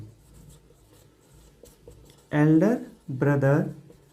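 Quiet scratchy strokes of writing on a board fill the first two seconds, then someone speaks over the end.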